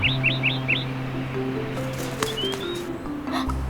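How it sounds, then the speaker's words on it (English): A bird chirping in a kids' video game, a quick series of four bright, high chirps at the start, followed by a few soft whistles, over a steady synthesized music background. "It's a real bird."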